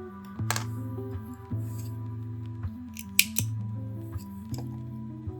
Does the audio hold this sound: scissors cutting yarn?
yes